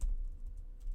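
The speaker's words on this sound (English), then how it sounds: "we might as well try to go through the process of typing" Quiet keystrokes on a computer keyboard while writing Java code, a brief soft run of typing clicks over a low hum.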